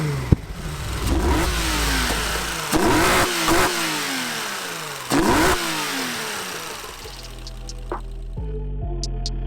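A crazy BMW E30 with a 2.9-litre stroker engine and air-shift sequential gearbox, accelerating hard on the road; loud repeated revving pulls with rising pitch and sharp gear changes, close inside the car, easing off near the end.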